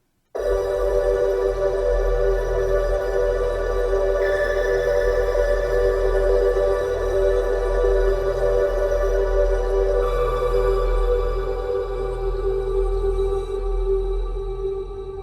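A synthesized tone plays a short melody of sustained, stacked notes, steady and continuous with a few pitch changes, loud and alone throughout.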